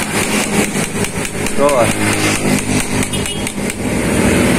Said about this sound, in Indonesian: kalau nggak bisa didorong, pukul. Ayo, pakai palu lah.